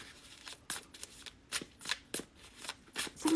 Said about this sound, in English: So I'm gonna shuffle here and then we're gonna get going.